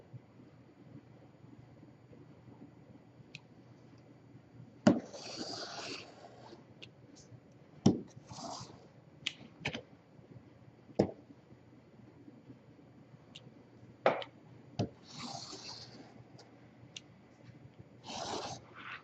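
Paper strips are cut out of an 8.5 by 11 sheet in scattered, close snips and crisp rustles, separated by quiet pauses.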